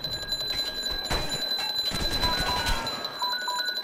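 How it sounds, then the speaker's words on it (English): An in-game alarm in ARK: Survival Evolved rings as a steady, high electronic tone with repeating beeps over a dense layer of game noise and clatter, loud and continuous throughout. "That's the alarm."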